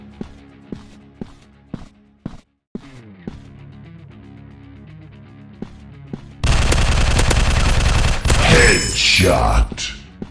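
Gunfire from a robot-themed first-person shooter mobile game on Android: scattered single shots and clicks at first, then a loud, sustained burst of rapid automatic fire with booms, alone without talk.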